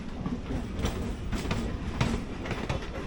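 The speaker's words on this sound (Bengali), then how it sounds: "ট্রেন তো ছেড়ে দিয়েছে" Local train running from Kolkata toward Bolpur Santiniketan, heard from inside a compartment as a steady rumble with repeated clickety-clack wheel beats over the rails and no talk.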